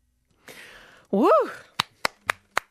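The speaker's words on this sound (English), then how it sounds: "I need some more applause in here, don't I? It's not as effective with just me." One person claps four times alone, sharp close claps in a slow even rhythm following a brief voice, inside an ABC radio studio interview with the Gin Palace.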